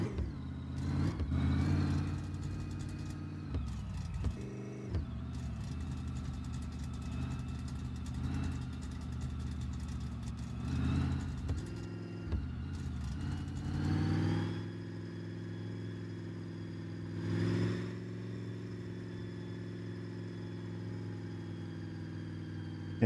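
A car with an automatic transmission runs steadily, its engine drone swelling with occasional gentle revs and settling back, heard alone without talking.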